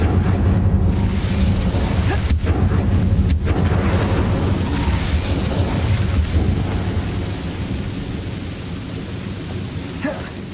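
A fire spell cast in a video game roars out as a loud, sustained whooshing rumble that holds steady for several seconds, then slowly fades toward the end.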